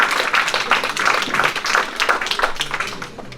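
Lively audience applause at a French eloquence contest, many hands clapping in a dense, uneven patter that swells and eases, with a few voices mixed in.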